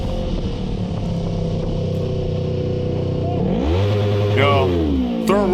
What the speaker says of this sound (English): The revving does nothing, we know that.